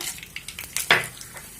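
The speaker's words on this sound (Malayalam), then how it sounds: "പാൻ ചൂടായി നമുക്ക് വെളിച്ചെണ്ണ ഒഴിച്ചു കൊടുക്കാം കടുകിട്ട് കൊടുക്കാം" Mustard seeds and dried red chillies fry in hot coconut oil with a crackling sizzle, brief close pops and spatters over a short stretch, one louder burst in the middle, no talking.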